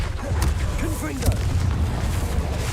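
Fiery blast of the Confringo spell in Hogwarts Legacy, a dull boom layered over ongoing game noise and low rumble, with a second burst near the middle; speech runs alongside.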